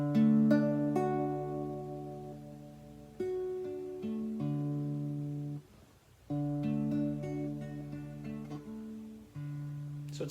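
Acoustic guitar fingerpicking a simple folk pattern, thumb bass on open D alternating down and up with treble strings, clear ringing notes in steady rhythm, close and alone.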